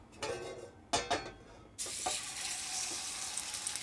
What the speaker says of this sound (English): really nice sizzle.